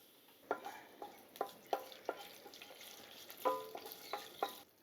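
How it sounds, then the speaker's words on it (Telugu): Cumin, mustard seeds, chana dal, urad dal and dried red chili pieces tempering in a spoonful of hot oil for an onion roti pachadi, with a steady sizzle and sharp scattered pops and crackles repeating throughout, close and clear with no talk. "ఒక్క చెంచా నూనె పోసుకొని తాలింపు పెట్టుకుందాం"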